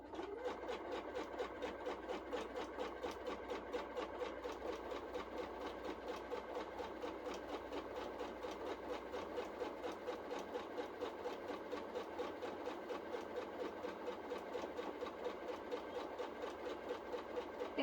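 A sewing machine stitches a quilt block at moderate speed, a steady rhythmic needle chatter with a fast even pulse that holds unbroken from start to finish.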